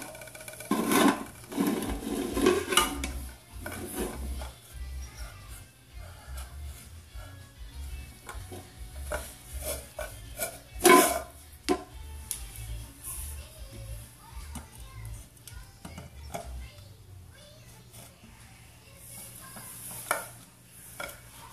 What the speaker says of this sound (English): Stir the pot.